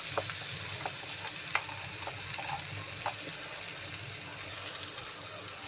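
Tomato frying with poha in a pan gives a soft, continuous sizzle with scattered small pops and a few stirring taps, fairly quiet, with no talk.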